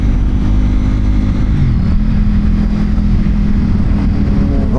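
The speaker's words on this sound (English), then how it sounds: "Just popped a wheelie right there for us." A motorcycle engine roars loud and close as a rider accelerates and pops a wheelie on Seven Lakes Drive in New York, a sustained revving drone with shifting pitch and no speech over it.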